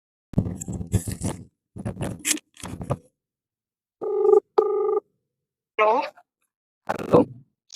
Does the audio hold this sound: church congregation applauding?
no